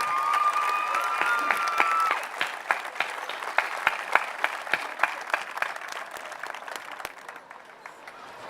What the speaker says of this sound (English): How about one more round of applause for Joy and all of our survivors here tonight?